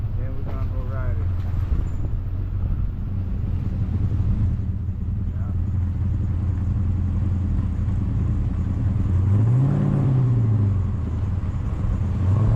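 A 1971 Chevy Malibu with a new carburetor and fresh oil runs on a drive, its engine rumbling low and steady up close, rising in a brief rev near the end, with people talking over it.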